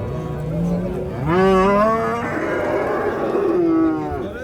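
A cow at a livestock market moos loudly and close by, one long drawn-out call followed by a shorter second moo, with no talking.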